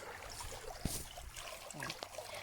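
Water flowing through a rice field makes a faint, close trickling and burbling, with a few small splashes and clicks over soft outdoor background.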